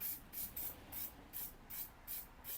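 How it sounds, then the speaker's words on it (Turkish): Spray paint hissing from a can in about seven short, evenly spaced bursts, close and fairly loud, with no talking. "Biraz da şurada sıkayım spreyini"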